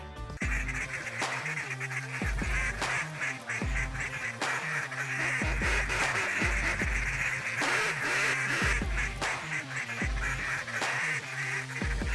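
A waterfowl hunter's duck call blows a steady run of loud, rhythmic quacks and honks that repeat for several seconds with no talk.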